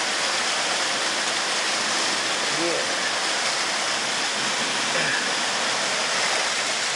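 Heavy tropical rain pours down steadily and loudly, a dense continuous hiss like a downpour with no breaks, while a voice briefly speaks over it.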